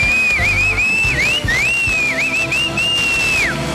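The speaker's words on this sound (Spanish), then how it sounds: "Pero vio como chifla." A person whistles loudly on stage at a Chilean telethon, a bright sustained tune with dipping, wavering pitch, close and clear over faint crowd noise.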